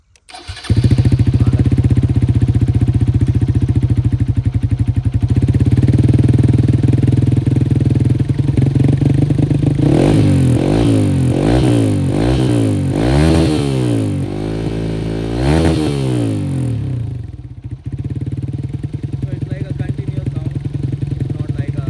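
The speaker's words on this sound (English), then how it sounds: "Can you turn the motorcycle on and just let us hear the idle sound of the exhaust?" A Hero XPulse 200 motorcycle fitted with a Quickshift racing exhaust starts and settles into a loud, close, throbbing idle, then gives a series of about six sharp revs that rise and fall before dropping back to idle.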